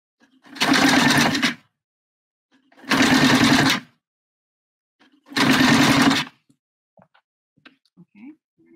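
A sewing machine stitches a bra in three short bursts of fast, buzzy running, each about a second long, separated by quiet pauses, with small faint handling sounds at the end.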